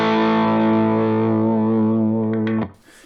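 A single sustained, heavily overdriven electric guitar chord buzzes thick and saturated, then is abruptly cut off into near silence.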